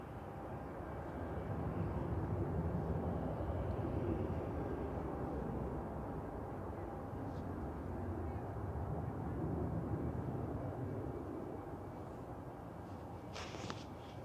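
A Lufthansa airliner inbound from Frankfurt rumbles low and steady on approach to Manchester Airport, a distant, broad engine roar that swells and fades gently, heard faintly without talk.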